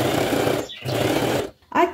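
A sewing machine stitches pinned fabric all the way around its edge, whirring in two steady, close runs separated by a brief pause, with a short voice near the end.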